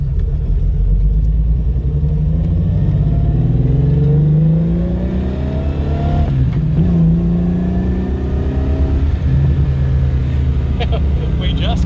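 A Holden VK Commodore drives on the road for the first time in eight years, its engine droning loud and close while it revs through rising and falling gears, with voices talking over it.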